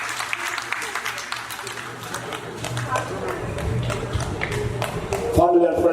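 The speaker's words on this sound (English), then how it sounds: "A round of applause to PDG" Applause from an audience at a Rotary district conference in Diani, a steady wash of clapping that builds toward the end, with a voice speaking over it throughout.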